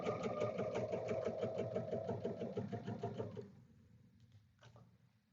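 A sewing machine chain-pieces fabric rectangles in a fast, even whir for about three seconds, then stops, leaving a few faint clicks.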